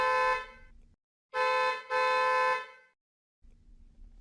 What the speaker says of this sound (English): A car's honking.